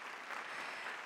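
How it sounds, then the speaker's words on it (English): Faint, brief applause from an audience at a conversation event with Hillary Clinton and Shinzo Abe, a soft, even patter of clapping heard from a distance. "that's worthy of applause"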